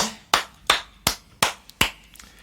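Six sharp, loud hand claps ring out alone in a small room, spaced about a third of a second apart in a steady rhythm.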